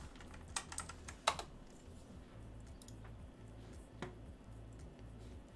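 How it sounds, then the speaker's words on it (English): Computer keyboard typing comes in quick soft clicks, a few bunched taps early on and a lone one later, faint over a low rhythmic background hum. "I typed in the word portfolio."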